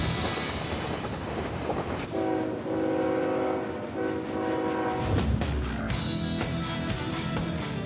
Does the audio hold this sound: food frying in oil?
no